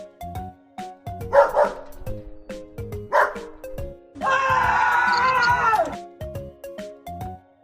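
A dog barks twice in sharp yips, then lets out a longer howling, whining bark, all set over a repeating bouncy children's music track in a preschool action-word lesson.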